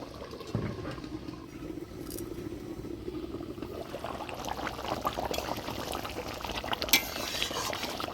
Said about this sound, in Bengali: এখন তেল চচড়িটা করলে পরেই নামতে এটা এক মিনিট ঢাকা দিয়ে জাল দিয়ে নেব